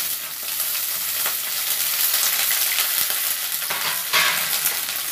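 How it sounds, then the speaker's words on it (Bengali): Young vegetable stalks are stirred into already fried potatoes in a pan, giving a loud, steady sizzle with scraping stir strokes close by and no talking. "ডাটাটা দিয়ে আমি একটু নেড়ে নিচ্ছি।"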